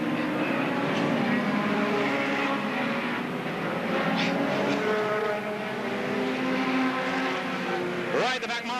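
Brisca F1 stock cars at Northampton roar past in a continuous loud engine drone, with a sharper car sweeping by near the end, all under a race commentator's voice.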